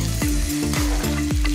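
Onions and capsicum sizzling in a pan for pasta while a spoon scrapes through them in steady repeated strokes, close and continuous with no voice.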